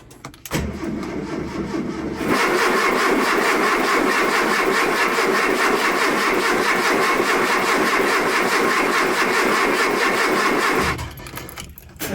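A 1978 VW Bus engine cranks and starts after sitting unused for over a month, a short grinding crank giving way to a loud, steady, close-up idle that runs for several seconds before cutting off.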